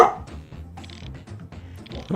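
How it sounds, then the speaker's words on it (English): A dog gives a few soft, muffled barks and yips close by in a quiet room, faint and low in level. "Oh, it's my dog."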